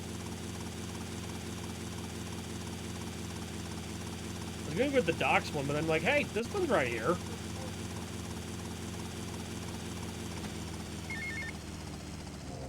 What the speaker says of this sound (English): We're in a helicopter after all.